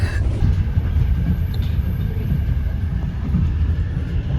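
Steady low rumble inside a stationary passenger train with a broken-down locomotive, heard loud and continuous with faint higher hiss and no talk.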